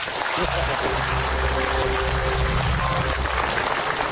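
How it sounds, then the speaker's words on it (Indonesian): A large audience at a religious talk applauds in a dense, continuous wash of clapping that holds steady and loud throughout. "Nah, tepuk tangan."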